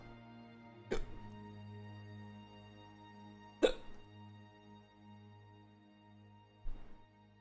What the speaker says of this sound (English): I have the hiccups now